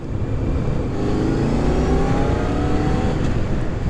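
Honda CBR600F inline-four motorcycle engine revving steadily and loudly, a continuous mid-pitched drone with rising harmonics as the revs climb, heard close and alone without talk.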